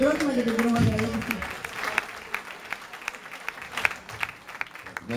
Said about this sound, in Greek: Ένα χειροκρότημα για τον κύριο Μαργαρίτη